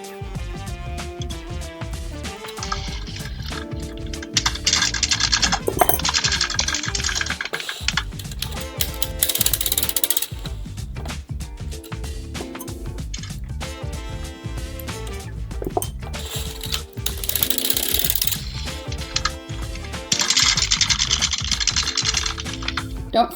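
A hand-cranked circular sock knitting machine clatters steadily in dense mechanical bursts, its needles clicking loudly and continuously with brief pauses between rounds.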